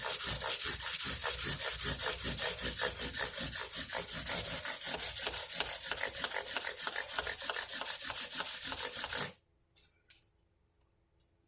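A guitar fret crowning block rubbed back and forth on an abrasive pad gives a loud, rhythmic scratchy rasping at a quick even pace for about nine seconds, then stops, leaving faint handling clicks.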